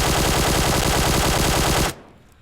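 A QBZ assault rifle fitted with a compensator fires in PUBG Mobile, a loud, sustained automatic burst of rapid rhythmic shots that cuts off abruptly near the end, leaving a brief fading tail.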